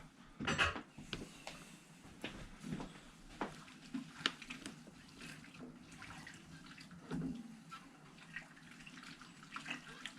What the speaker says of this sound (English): I'm just going to give it a stir as I go along